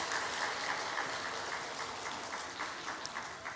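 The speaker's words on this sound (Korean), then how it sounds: "박수 한번 할까요?" A church congregation at a Wednesday prayer meeting gives a round of applause, a faint, steady wash of many hands clapping heard from a distance.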